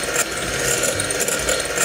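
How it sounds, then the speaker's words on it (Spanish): Egg whites with a pinch of salt are beaten to stiff peaks: a steady, close mechanical whirring and rattling runs unbroken for the whole moment, with no voices. "Aquí tenemos las 3 claras con la pizca de sal. Lo vamos a batir"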